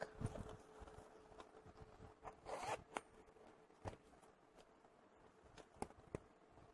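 A bag's rear zipper is pulled open in a few quick rasping strokes, close and quiet, followed by faint handling clicks.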